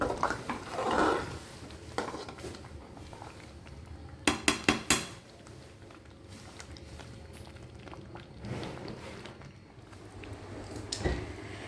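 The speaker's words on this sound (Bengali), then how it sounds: "ঘিটা যেটুকু দিলাম দিয়ে একটু নাড়াচাড়া করে ঢাকা দিয়ে দেব" Ghee-laced khichuri is stirred in a home kitchen pot, with soft scraping and a quick run of metallic clinks as the lid or ladle knocks the pot, over faint background noise.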